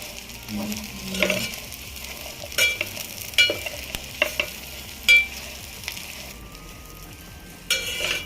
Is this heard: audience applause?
no